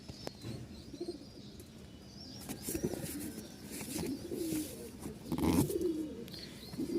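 Lakka and Lahori pigeons cooing nearby in several throaty, rolling bursts that grow louder toward the end, over a low background murmur.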